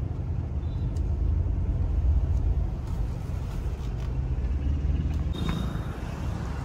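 A car's engine idles in a steady low rumble near the gate of Sawantwadi Palace, with a faint hiss and a few brief clicks on top.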